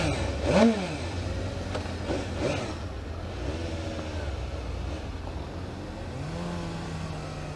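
Engine of a 2015 Suzuki GSX-S750 motorcycle revving on a demo ride, with a couple of sharp rises early on followed by steady droning passes and a falling whine, heard alone without talk.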